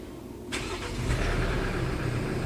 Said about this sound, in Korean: 이제 시동을 켰네요